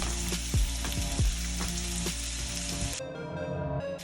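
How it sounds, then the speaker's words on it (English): A ribeye steak sizzles on a gas grill with a lopsided burner, a continuous loud hiss and crackle with a few sharp pops and clanks near the start, then the sizzle drops to a quieter, thinner fry. "Now we're just going to put our ribeye on."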